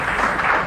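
A brief burst of canned applause fired from a podcast soundboard, a dense, steady crackle of many clapping hands that fills the whole moment and cuts off abruptly.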